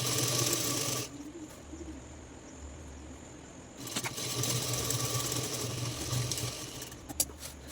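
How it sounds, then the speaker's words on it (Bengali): A sewing machine stitches a lungi seam in a soft, continuous mechanical whir, pausing briefly partway through before running on at a steady, fairly quiet level. "দুটো বাটকে এইভাবে ধরে ধরে পুরোটা সেলাই করে নেব।"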